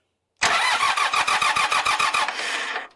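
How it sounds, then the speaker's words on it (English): A Montana 4540 tractor engine, with its fuel pump disconnected, cranks over steadily under the starter in a loud, rhythmic chug of about a dozen even strokes. It never fires, and the sound cuts off abruptly after about two seconds. "So let's see if it'll turn over."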